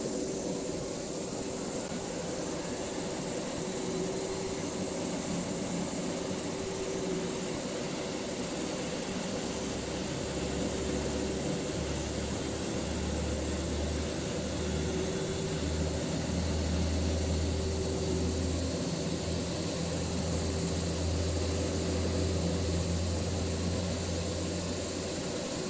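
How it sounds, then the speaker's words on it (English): A Boeing 787-9 jet engine in the flight game Project Flight spools up with a steady, continuous roar and hum that holds loud and even throughout, with a low drone rising partway through. "Start engine 2, flaps."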